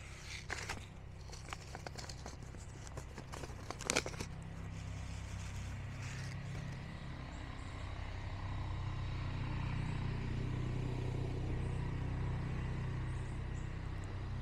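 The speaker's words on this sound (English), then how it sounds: "if we're going to be doing a video, somebody's going to drive by." A vehicle passes on a quiet country road, a low engine rumble that builds steadily from faint to fairly loud and holds through the end, after a few brief clatters near the start.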